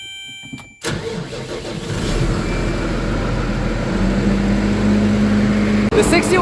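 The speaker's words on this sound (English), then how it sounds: "The 6190 here is the best tractor we have for starting in the cold, hands down." The engine of a 6190 tractor cranks and fires in the cold, then settles into a loud, close, steady mid-pitched rumble. It keeps running through to the end.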